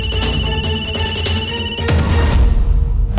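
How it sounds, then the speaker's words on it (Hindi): A mobile phone ringtone plays loud and close in repeating electronic beeps for almost two seconds, then breaks into a burst of noisier sound before fading out. "रघु का फोन था।"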